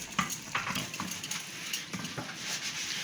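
A spoon stirs minced onion and two grated onions with a crushed head of garlic into a chicken and spinach filling, giving soft, irregular scraping and clinking against the pot, close and fairly quiet.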